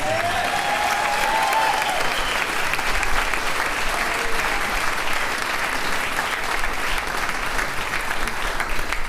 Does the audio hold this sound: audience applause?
yes